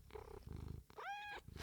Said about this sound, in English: Oh, we got some purrs.